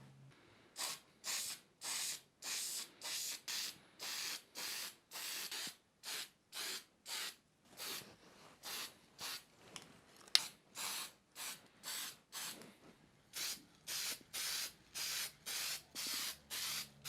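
Spray paint applied to the housing of an old drill motor in short, regular hissing bursts with brief pauses between them, repeated many times.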